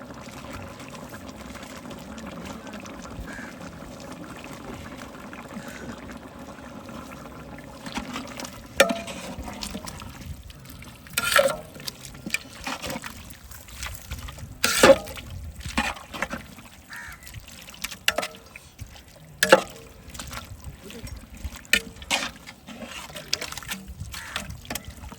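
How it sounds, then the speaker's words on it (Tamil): Water pours into a biryani pot with an intermittent splashing trickle, close and moderately loud, alongside clattering kitchen handling over a low background hum. "அப்படியே தண்ணி ஊற்றிடும்."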